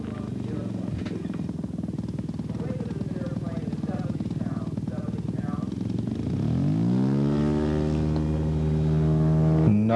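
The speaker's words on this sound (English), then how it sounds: "The power plant, are you ready for this? Is a 27 horsepower Limbach turning a tiny 38 by 10 prop." A 27 horsepower Limbach engine on a Sopwith Pup model aircraft turning a 38 by 10 prop drones steadily, then rises sharply in pitch and volume as the throttle opens.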